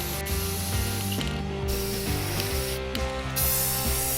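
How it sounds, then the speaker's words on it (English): Spray paint hissing from an aerosol can onto aluminum armor to give it a weathered look, with several short bursts and clicking, rattling mechanical sounds in between, close and fairly quiet. "we're gonna do a little bit of weathering and some spray paint,"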